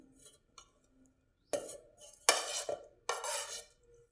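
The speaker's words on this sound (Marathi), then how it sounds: "याच्यामध्ये हे काप टाकून द्यायचे।" Sweet lime (mosambi) slices dropped one after another into a large steel mixer jar in a home kitchen, giving a few sharp, close clattering knocks with brief pauses between them and no talking.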